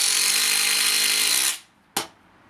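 A DeWalt Powerstack hammer drill drives a 120 mm timber screw into thick wood, whirring loudly and steadily for about a second and a half before stopping abruptly, then one sharp knock follows.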